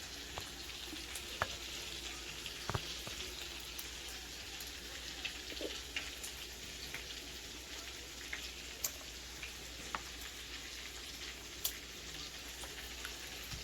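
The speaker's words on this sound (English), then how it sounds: "And while my meatballs cooking, I'm going to just let my spaghettis and my meat sauce warm" Meatballs cook in a pan with spaghetti and meat sauce warming. A soft, continuous frying crackle goes on for the whole stretch, with scattered faint pops and ticks and no talking.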